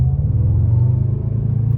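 Mercedes E63S AMG engine and exhaust give a loud, steady, deep rumble heard from close by, a continuous low growl with slight pulsing, and no talking.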